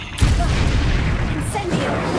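Loud Confringo explosion spell in a Harry Potter video game, a sudden blast that hits sharply and then roars on as a dense, noisy rumble for about two seconds.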